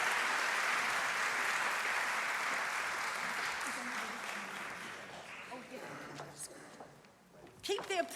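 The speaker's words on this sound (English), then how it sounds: "Keep the applause going." Audience applause at the 2024 Focus on Ability Short Film Awards ceremony, steady and full for several seconds after a winner is announced, then thinning into scattered claps and a brief final burst.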